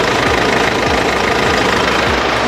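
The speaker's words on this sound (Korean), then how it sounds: "디젤 엔진이라 어느 정도 소음은 있지만" A 2016 Mercedes-Benz E250 BlueTec 4MATIC diesel engine idles up close with the hood open, a steady, loud rumble and a regular knocking clatter, with no voices.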